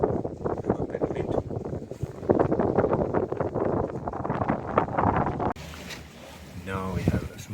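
Sailboat under way in the wind, with steady broadband wind and water rush against the microphone throughout, heavier in the first five seconds and then easing.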